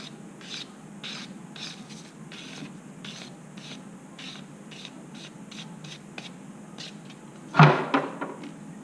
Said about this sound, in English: sawing.